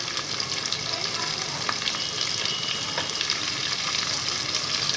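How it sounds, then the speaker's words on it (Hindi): Beef pieces fry with garlic and ginger for a Pakistani white beef boti dish, giving a dense, constant sizzle with occasional scraping stirs, close up and without talking. "ये अब लहसुन अदरक के साथ इसको थोड़ा सा फ्राई करेंगे।"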